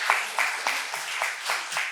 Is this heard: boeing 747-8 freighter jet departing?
no